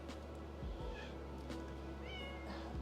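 A cat meows faintly a few times in a workshop, thin and brief against a steady background hum.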